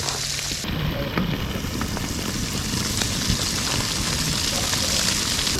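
Meat sears on an outdoor cooker at an off-grid cabin, a loud, steady, close sizzle and crackle that runs throughout with no talk.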